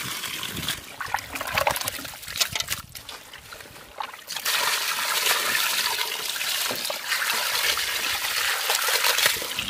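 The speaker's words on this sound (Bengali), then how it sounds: "মাংস গুলো এবার ধুয়ে নেব" Chicken meat is rinsed under running water, starting with splashy, uneven pouring and trickling and then settling into a steady, close gush of water for the second half.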